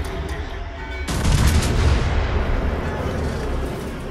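Battleship secondary battery guns open fire at close range in World of Warships, starting with a sudden loud blast that rolls into a dense, rumbling stretch of overlapping gunfire and booms.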